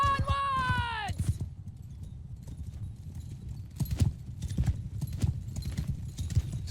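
Horses in the Mount & Blade 2: Bannerlord video game gallop in a dense, continuous clatter of clip-clop hoofbeats, loud and near, with a horse whinnying briefly at the start and voices murmuring underneath.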